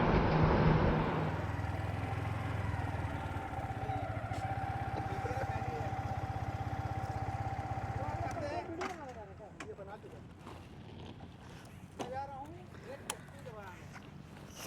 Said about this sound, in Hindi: देख सकते हो मैं ये बाइक ऑन करता हूँ R15 V3